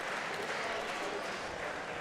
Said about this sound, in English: Crowd gives a big round of applause as we head to the 127-pound weight class.